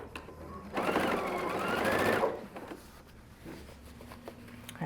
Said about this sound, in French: Puis on coud comme ça pour aider notre tissu à conserver sa courbe.